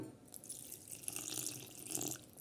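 Water runs and splashes steadily into a bowl of rice flour, wheat flour and jaggery for a couple of seconds, a soft, close pouring sound with no talking.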